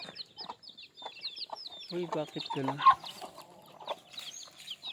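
Free-range chickens cluck and chirp softly nearby, with short repeated calls and brief peeping, and a person speaks briefly in Filipino amid them.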